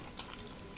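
Crispy fried food crunched in a single quick bite at a family mukbang, a brief close, faint crackle with no talk.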